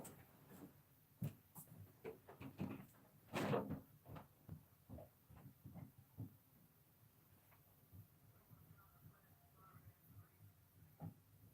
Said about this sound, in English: I gotta go unlock my door.